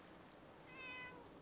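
A cat meows once in the Fallout 4 Far Harbor DLC, a single drawn-out mewing call rising over a faint ambient game backdrop with no talk.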